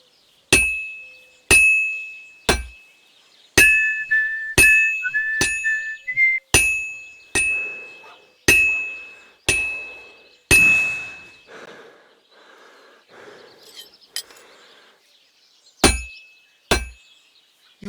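Hammer blows ring on hot metal at a blacksmith's anvil in a medieval game forge, Kingdom Come Deliverance 2: about a dozen sharp, bright clangs in an uneven rhythm with pauses between, each with a decaying metallic ring.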